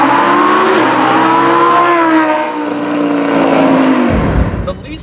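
A Lamborghini Huracan accelerating hard, a loud engine note rising steadily in pitch and then dropping sharply at a gear change, heard close from inside the car.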